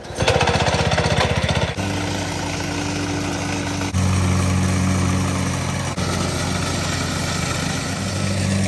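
A mini skid steer's small engine runs loud and close, starting with a rough, rapid chugging burst before settling into a steady droning idle whose pitch steps slightly a couple of times.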